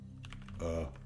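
Quick bursts of computer keyboard typing, several rapid key clacks over about a second, fairly soft and close, with a faint voice-like murmur underneath.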